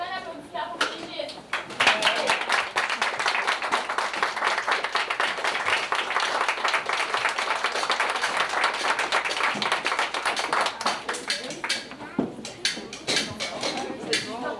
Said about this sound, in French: Une bonne main d'applaudissements pour Brigitte.